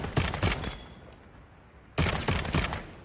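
Video game gun firing triple-shot bursts, two sharp clusters of rapid shots a second or so apart, loud and close with a brief quiet gap between them.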